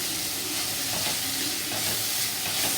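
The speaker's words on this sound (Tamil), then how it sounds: "இப்போ பூண்டு போட்டுக்கலாம்" Garlic and chopped green chillies frying in oil in a pan for a yam mash dish, a steady close sizzle with stirring and no talk.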